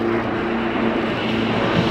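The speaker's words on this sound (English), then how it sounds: "The Yak110 and that big jet engine underneath it." A Yak-110 aircraft with a large jet engine slung underneath roars through an airshow display on the Gold Coast, a loud continuous engine rumble and whine held steady and close with no talk.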